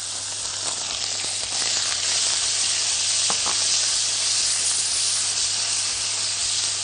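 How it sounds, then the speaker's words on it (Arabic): Minced meat frying in ghee over a gas stove, giving a loud, steady sizzling hiss that carries on without a break, with faint stirring clicks beneath it. "هبتدي احط اللحمه المفرومه علشان اعصجها"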